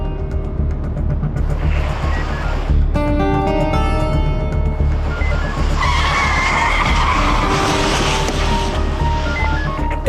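A car skids and screeches as it tears away, its tyre squeal loud and sustained under a bed of music with tonal swells.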